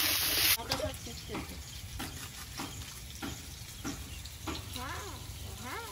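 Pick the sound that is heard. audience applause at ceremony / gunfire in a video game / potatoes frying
potatoes frying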